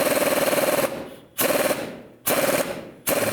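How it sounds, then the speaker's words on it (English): Rapid pneumatic impact bursts from an air tool working a front end tool on the idler arm of a 2000-06 GMC Yukon, three or four close, loud rattling bursts with brief pauses between them. "Just tighten this up."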